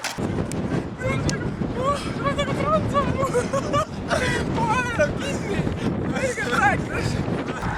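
Steady wind buffets the microphone in a continuous rushing roar during a marathon run, with runners talking throughout over the gusts.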